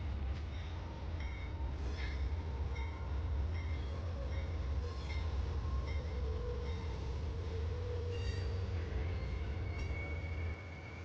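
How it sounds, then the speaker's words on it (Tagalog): Amtrak's California Zephyr passenger train arriving at a station at night, rumbling steadily with low heavy drone, metallic squeaks and clanks rising over it, fairly close and continuous. "Nabasag ang tahimik na gabi ng tag-init sa busina ng paparating nating tren"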